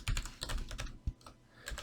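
A computer keyboard clicks in a quick run of soft, close keystrokes, including the Insert key, while the mind-map software is used.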